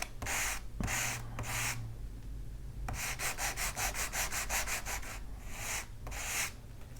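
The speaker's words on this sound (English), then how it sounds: "I like to take some 220 sandpaper and just sand the edges, all 4 sides, to even them up" 220-grit sandpaper rubs the edges of laser-cut balsa-style fins for an Estes Mini Der Red Max model rocket, close scratchy strokes in short bursts, then a quick rhythmic run of back-and-forth passes, then a few more.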